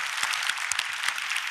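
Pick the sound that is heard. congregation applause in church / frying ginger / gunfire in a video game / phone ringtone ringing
congregation applause in church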